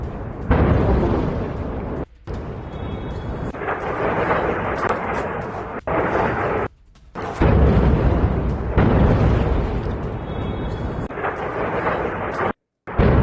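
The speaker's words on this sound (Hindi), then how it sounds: "मेहराबाद हवाई अड्डे के पास भी धमाका हुआ" Explosions from an airstrike near Mehrabad airport in Tehran, a long loud rumbling roar of blasts and booming that runs almost continuously, broken by a few short drops, with no voices.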